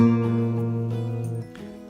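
Two guitar notes ring out together as a sustained dyad, fading gently before a faint shift near the end.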